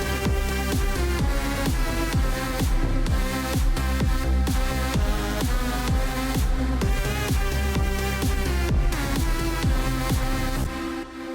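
A trance lead synth built with Serum and a Santur plugin, playing within a full mix: a dense, driving, loud passage with steady kick-driven rhythm under bright layered synths, ending abruptly.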